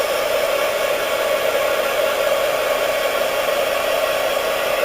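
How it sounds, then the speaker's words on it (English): A heat gun blows hot air over polymer clay for a butterfly pendant, giving a steady, loud, unbroken rushing hiss that holds the same level the whole time, with no voices. "once I start the heat gun, for a second or two they're going to want to blow"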